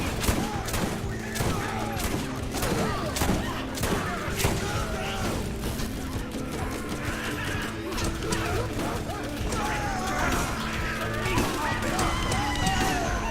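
Enemy gunfire rattles in the Borderlands video game, rapid bursts of shots and crashes overlapping in a busy, loud fight, with a voice talking over it in places.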